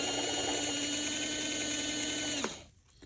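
The motor of a Varney 2-8-0 Canadian Pacific Consolidation model locomotive runs at full power with a steady, close, high-pitched whine, then abruptly cuts out near the end.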